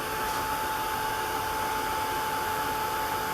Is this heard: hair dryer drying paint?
yes